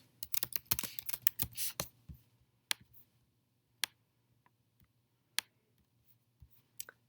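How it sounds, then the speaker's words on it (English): Fingers type on a computer keyboard close by: a quick burst of clicking keystrokes, then a few scattered individual key taps against quiet background. "And then I'm going to type my name."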